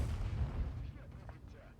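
E 50 M tank firing its gun in a tank video game, a deep low boom at the start that rolls off into a fading rumble, with a voice faintly audible under the tail.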